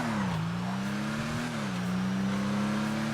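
A Vulcar Nebula Turbo driven in the video game GTA 5 Online gives a loud, steady engine drone. The pitch dips slightly and recovers as the car holds speed, with faint tire noise underneath and no voices.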